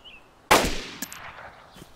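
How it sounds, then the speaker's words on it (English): A single sharp, loud gunshot in the DayZ video game, ringing out with a decaying tail, followed by a fainter second report and a small click near the end. "I just shot to finish him off"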